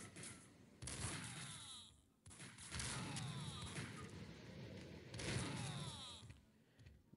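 Gunfire in the Max Payne Mobile video game: faint bursts of shots and crackling impacts in several clusters over game ambience, with no talk.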